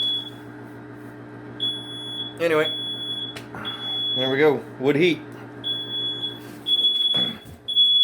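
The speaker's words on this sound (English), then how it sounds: "of course the fire alarm's going off again" A smoke alarm in a basement with a wood furnace sounds repeated shrill electronic beeps, recurring through the clip while someone talks over it.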